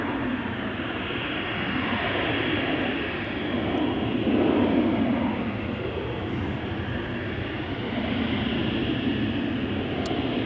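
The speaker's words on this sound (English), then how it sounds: "an SAS Embraer 195 destination Oslo is coming this way." An SAS Embraer 195 jet airliner approaching at Schiphol, a steady, loud broadband engine roar that swells slightly as it nears, with no voices.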